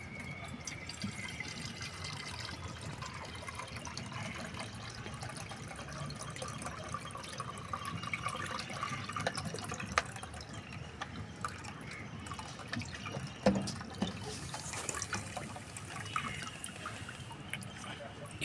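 A quiet, steady trickle of homemade plant fertilizer liquid being filtered runs and drips, soft and close, continuing for a long stretch with faint splashes.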